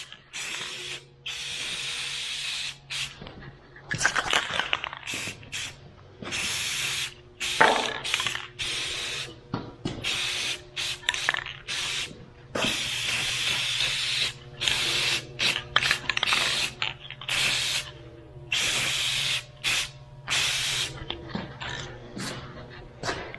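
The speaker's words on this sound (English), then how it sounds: "just a quick coat of black spray paint" Black spray paint hisses from an aerosol can outdoors in repeated short bursts, each a sharp spray with small rattling pauses between, fairly close and steady with no one talking.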